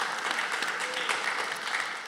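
Audience clapping at a panel on women's entrepreneurship, a short burst of dense applause from a seated crowd, even and sustained before tapering slightly at the end.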